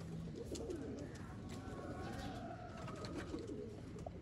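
Pigeons coo softly at a breeding loft of game birds in Sialkot, a low murmuring coo under steady background noise.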